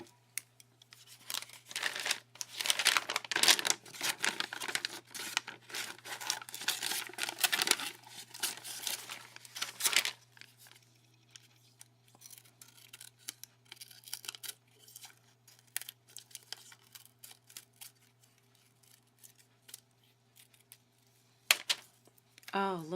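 Scissors snip around handmade DIY flat back stones in dense, close clusters of crisp cuts and paper rustling, then thin out to sparse snips over a steady low hum.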